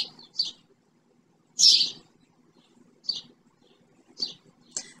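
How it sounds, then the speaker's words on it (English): Birds chirp outdoors near a house in short, bright bursts separated by quiet gaps, with one louder call standing out among a few fainter ones. "Can you hear the birds chirping?"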